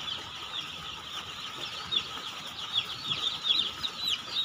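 Baby chicks cheep steadily in a brooding room, many high, thin peeps overlapping into a continuous chorus at moderate distance, with no talking.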